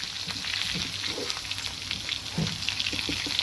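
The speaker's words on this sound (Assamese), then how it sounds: "একফালে পিঁয়াজ দি দিলোঁ, লৰাই দিওঁ পটাপট" Onions sizzle in a hot pan, quietly crackling and spitting while they are stirred quickly, with a few soft scraping taps.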